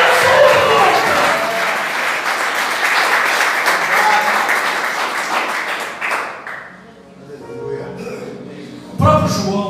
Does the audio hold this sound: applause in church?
yes